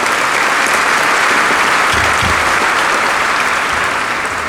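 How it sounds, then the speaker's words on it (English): Loud, sustained clapping from a large audience at an energy summit opening ceremony, a dense unbroken roar of hands with a few low thumps near the middle. "can we have a round of applause for the Oceania category?"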